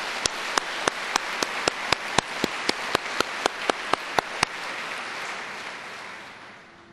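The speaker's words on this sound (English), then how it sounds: "I think we really owe the Honor Guard and Supervisor Clark another round of" Audience applause for an Honor Guard and Supervisor Clark at an opening welcome session: crisp, evenly spaced claps ring out over a wash of crowd clapping, which then thins and fades away.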